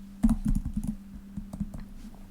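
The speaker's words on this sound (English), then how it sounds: "So now I'm going to type print hello." Quick, uneven clicks of keys on a computer keyboard, close and crisp, in short bursts over a faint steady hum.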